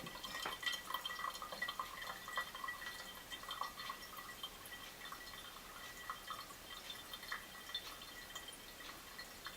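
Water trickles and drips faintly as it flows back inside a handmade ceramic pet drinking fountain, a quiet, irregular gurgling patter that continues throughout.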